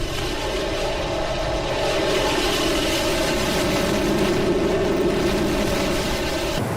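Continuous loud roar of a B-1 Lancer bomber's jet engines in a flight simulator game, a dense steady rumble with a broad hiss, constant and close throughout without pauses or talking.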